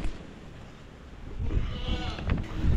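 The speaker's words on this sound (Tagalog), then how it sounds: "Yan, may kambing tayo rito." A goat bleats a few times on a farm over steady outdoor background noise, close by and moderately loud, with wind-like rumble underneath.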